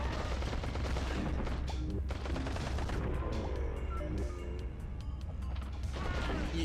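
Dense video-game gunfire from the shooter Time Recoil, with rapid overlapping shots and crashes running continuously under a loud, busy mix throughout.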